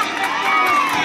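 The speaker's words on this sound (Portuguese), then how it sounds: "Bem, uma salva de palmas," Birthday party guests in a crowd cheering and shouting with children's voices mixed in, a loud dense burst of celebration lasting about a second.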